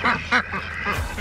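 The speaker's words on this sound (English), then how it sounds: "the ducks are enjoying their pool" Pekin ducks quack from their pool: two loud, nasal quacks close by, followed by softer, quicker calls and a low splash or thump.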